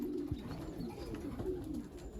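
Racing pigeons coo softly at a loft during a race day, low murmuring calls repeating steadily through the clip, fairly faint with no talking.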